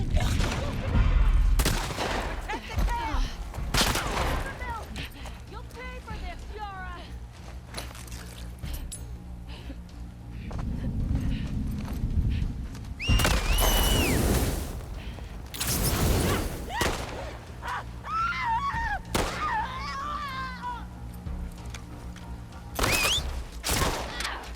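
Gunfire from a one-handed gun in The Last of Us 2, with sharp, loud shots in irregular bursts among game effects and some talk.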